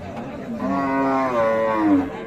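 A crossbred cow lets out one long, close moo lasting about two seconds, rising and falling in pitch with no talking, at a cattle market.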